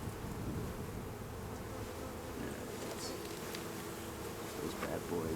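Honeybees swarm around an open beehive during an inspection, a dense steady buzzing that fills the whole clip, close and constant, with a few louder individual bees passing near.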